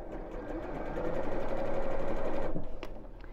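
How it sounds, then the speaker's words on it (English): A sewing machine stitches close to the piping on a drawstring bag, a steady, fast mechanical whirr that holds for a few seconds, then stops abruptly, with a couple of faint clicks after. "I'm going to sew quite close to the piping, but not actually through it."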